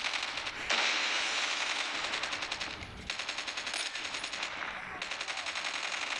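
Automatic weapon fire in Call of Duty multiplayer rattles in long rapid bursts with brief pauses between them, loud and close throughout.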